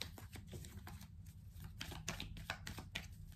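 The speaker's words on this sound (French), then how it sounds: "Et je vais battre le béline." An oracle card deck is shuffled by hand in a quiet room, giving soft, rapid riffling and tapping that runs steadily for a few seconds without speech.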